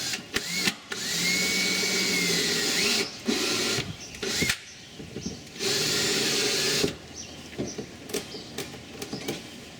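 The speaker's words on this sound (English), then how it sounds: "All I got to do is drill a hole big enough for this wire to go through" A power drill bores a hole for a float switch wire in a run of short, whirring bursts, several separate spurts starting and stopping close by, with brief pauses and small handling clatter between them.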